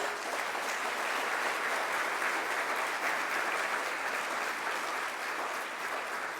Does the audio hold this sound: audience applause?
yes